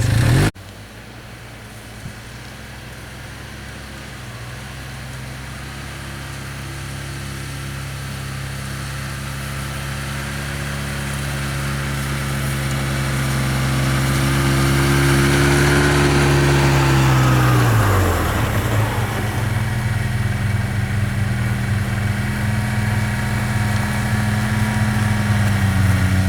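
Two 2016 Arctic Cat Bearcat 7000 GS Groomer Special snowmobiles run at 4,000 RPM in super low range, a steady droning engine hum with harmonic tones that slowly swells louder, then dips and shifts pitch as the sleds pass close.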